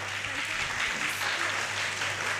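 Steady applause from an audience at a book release event for the book's illustrator, a dense wash of clapping at moderate level throughout with a low hum underneath.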